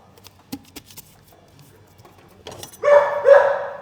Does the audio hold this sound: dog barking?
yes